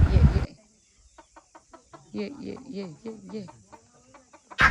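A chicken gives a short run of clucks and squawks in a Konkan village setting, preceded by a few soft ticking sounds and brief bursts of noise at the start and end.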